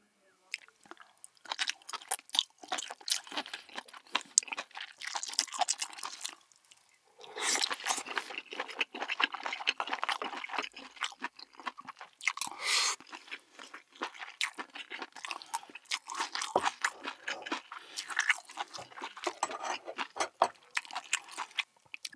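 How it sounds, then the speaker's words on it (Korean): A whole small octopus is chewed close to the microphone in a seafood mukbang, giving dense, wet, crunchy bites and squishes. The chewing is nearly constant, with a brief pause partway through. "이번엔 낙지 한 마리 통째로 먹어볼게요"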